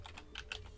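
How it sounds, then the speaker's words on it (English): Quick, faint keystrokes on a computer keyboard, a few light taps in a short burst with no talking. "I guess we'll just type that up and see what we get."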